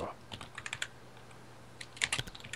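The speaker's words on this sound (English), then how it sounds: "I feel like Dad is typing a novel." Someone types on a computer keyboard nearby, with quick clusters of light clicks separated by short pauses and a faint hum underneath.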